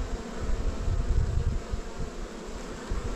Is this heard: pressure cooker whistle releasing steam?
no